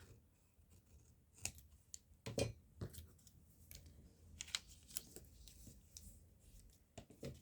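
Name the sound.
scissors snipping off a paper corner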